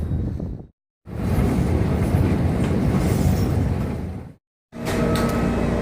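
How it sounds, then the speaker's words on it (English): Rushing rumble of a downtown monorail train in motion in Jacksonville, steady and close, broken by two brief silent gaps as if cut, with no voices. "So Jacksonville has a downtown monorail. The train is moving."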